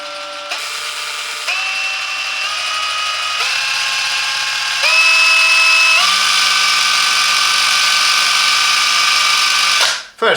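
A Parkside 20V Performance cordless impact wrench, model PPDSSA 20 Li A1, whines steadily at close range, its motor pitch stepping up through several speed settings before cutting off sharply near the end.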